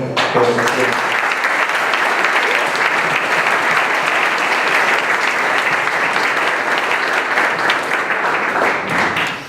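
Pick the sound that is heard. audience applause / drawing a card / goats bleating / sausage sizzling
audience applause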